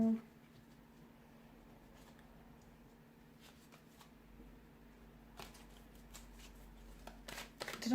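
Tarot cards being shuffled and pulled from a deck, soft papery riffles and slides close by with a low steady hum underneath, a few sharper card flicks toward the end.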